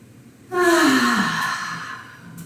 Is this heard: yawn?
yes